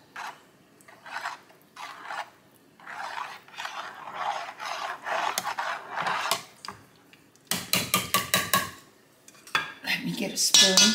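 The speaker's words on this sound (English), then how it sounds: "Mix it in there really well." A spoon scrapes and clinks against a bowl while chicken dressing is mixed, close and fairly loud, with irregular bursts of scraping and a sharper run of metallic clatter near the end.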